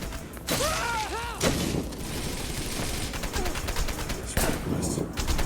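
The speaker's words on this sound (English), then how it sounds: "So the combat's pretty basic. Just pretty much stun, slice, shoot." Gunfire and combat from the action game Wanted: Dead, with bursts of shots, mechanical clanks and swooshes layered over a constant dense game mix; a voice talks over it.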